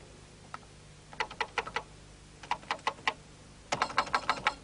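Quick bursts of key clacks from a Commodore PET computer keyboard, struck in three short runs of four to six presses, close and crisp, with no talking.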